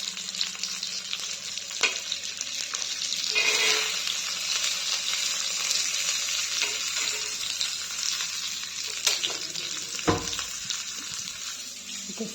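Fish sizzles in a hot pan with oil, a steady loud crackling hiss punctuated by stirring scrapes and brief clatters, continuing throughout at close range.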